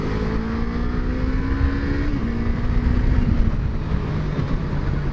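A Yamaha R15 motorcycle on a race track, its loud, close engine droning steadily, then dropping in pitch through a couple of aggressive downshifts.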